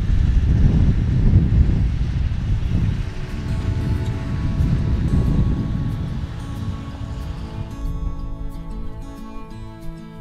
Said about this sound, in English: hanging out in the truck tonight because it's a little windy outside